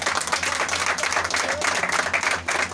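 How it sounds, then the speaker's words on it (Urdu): An audience breaks into loud, sustained applause, dense overlapping clapping that holds steady throughout with a faint murmur of crowd voices underneath. "تو میں چاہوں گا کہ ایسے لیڈر کے لیے زوردار تالیاں ہو جائیں۔"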